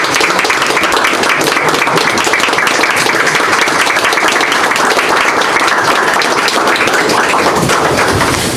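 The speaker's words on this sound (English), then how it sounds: "Yes, and you can get a quick applause." A large crowd at a board meeting applauds steadily, dense clapping that stays loud and even from start to finish.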